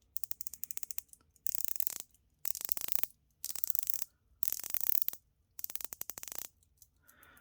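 A ceramic coin-edge GMT bezel on a wristwatch is turned in short bursts, each a rapid run of crisp, close ratcheting clicks, six bursts separated by brief silences.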